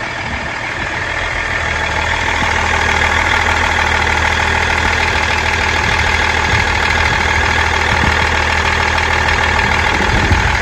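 A Range Rover L322 TD6 diesel engine idling with newly fitted auxiliary belts, a loud, steady, close-up rumble with a faint knocking texture that holds constant throughout, with no voices.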